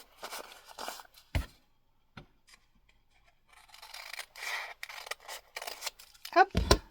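Scissors snip a paper tea filter in a few short, quiet cuts mixed with soft paper rustling and scraping, close to the microphone, in a mostly still room.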